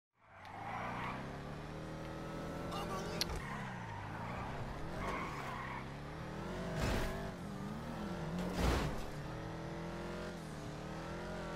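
Car engine revving and tires skidding in a PS4 video game, a sustained motor hum with shifting pitch and a few sharp tire squeals, no talk.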